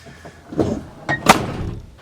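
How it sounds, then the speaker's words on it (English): A car door swings and shuts with a solid thunk, followed by a brief clatter, close by and fairly loud, with no talking. "If you pick up the door, you can close it."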